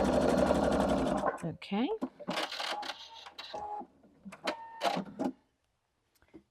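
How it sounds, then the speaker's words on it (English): A sewing machine stitches a straight seam on string quilt pieces in a fast, even whirring burst at the start, then stops as someone talks over brief handling noises. "Let me put it together with a straight seam, shall we?"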